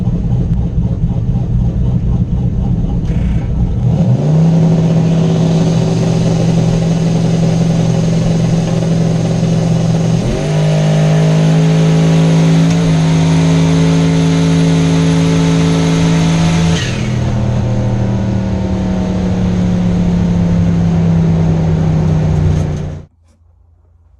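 Turbo LS-swapped Chevrolet S10 truck making a drag racing shakedown pass: a loud engine idles, then surges and holds high revs with a couple of gear changes, then fades out near the end.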